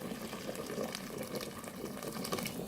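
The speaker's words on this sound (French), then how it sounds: "Maintenant, je vais ajouter l'eau bouillante." Boiling water pours steadily into a pot over lamb pieces for Tunisian couscous, a continuous close splashing gush with no talk.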